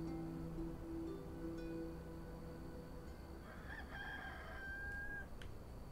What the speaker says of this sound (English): I heard the rooster, so here we go.